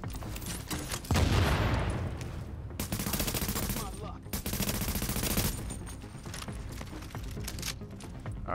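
Enemy gunfire in a shooter video game, loud bursts of rapid automatic fire in several long volleys with short pauses between, close and harsh.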